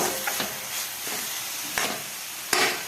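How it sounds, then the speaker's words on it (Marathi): Crushed peanuts being sautéed into safflower greens in a pan give off a soft, steady sizzle, with a few sharper scraping stir strokes at close range. "शेंगदाण्याचा कूट भाजीमध्ये मस्त परतत आहे"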